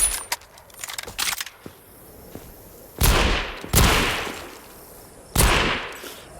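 Gunfire in the VR shooter Arizona Sunshine Remake: three loud, sharp shots spaced a second or two apart, each with a decaying tail, preceded by softer clicks and handling noises.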